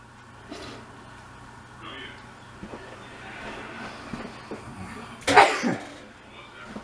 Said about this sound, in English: Got the sneezes.